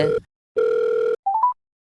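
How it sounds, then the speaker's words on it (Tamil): A telephone rings close and loud in two tonal bursts, short then longer, followed by a quick rising electronic chirp. "இன்னொரு ஃபோன் அடிக்குது."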